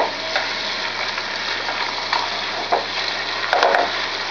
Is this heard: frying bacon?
yes